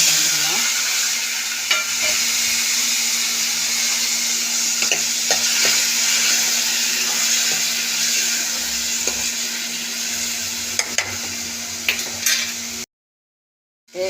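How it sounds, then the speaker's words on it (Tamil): Mustard seeds, urad dal and fenugreek fry in hot oil with a loud, steady sizzle and faint stirring taps throughout, then cut to brief silence at the end. "கடுகு உளுந்தம்பருப்பு வெந்தயம் நல்லா பொரியட்டும்"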